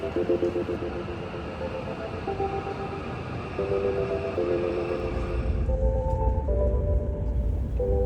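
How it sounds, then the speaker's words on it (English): Inside a Shinkansen bullet train travelling to Kyoto, a constant low rumble of the ride rolls on with faint tonal hums above it, growing slightly heavier toward the end. "we got ourselves on the Shinkansen to Kyoto"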